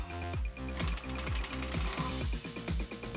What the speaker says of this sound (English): remove the 4 bolts that hold the rear block plate to the axle